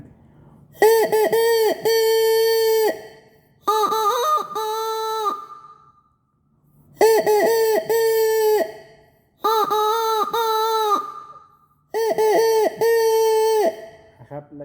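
A Thai flute plays a series of five long, wavering crowing phrases, each rising and falling, separated by short pauses, imitating a rooster.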